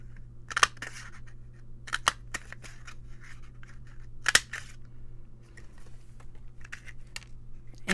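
Paper hearts being cut or punched out for an altered composition notebook craft: a handful of sharp, crisp snips and clicks arrive at irregular intervals, close and distinct over a quiet background hum.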